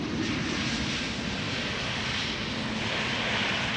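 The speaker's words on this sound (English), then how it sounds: "It is an Embraer 190, isn't it?" An Embraer 190 airliner lands at Amsterdam Schiphol Airport, its engines producing a steady, loud, broadband roar that stays constant throughout.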